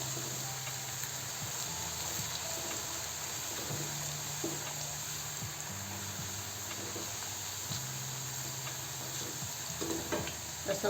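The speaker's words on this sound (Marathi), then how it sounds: "आता चिप्स तळूया।" Potato chips frying in hot oil in a home kitchen, a soft continuous sizzle and hiss with occasional stirring clinks, fairly quiet and steady with no talking.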